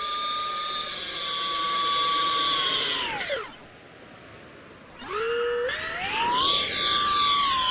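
Simulated F-14 jet engine in the RealFlight flight simulator game, a loud whining turbine drone that sweeps down and cuts to near silence, then spools back up with rising pitch.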